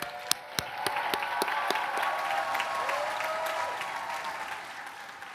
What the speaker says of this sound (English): So let's give them a round of applause for thank you for all your support.